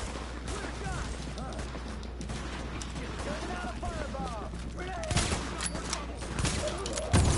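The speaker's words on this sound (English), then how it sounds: "People are shooting me!" Gunfire in Tom Clancy's The Division, rapid bursts of shots crackling continuously and growing louder toward the end, with someone talking over it.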